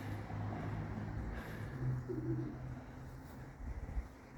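Pigeons coo softly in a loft while being caught, low throaty calls repeating over a faint background rumble, with light rustling and a nearby passing car.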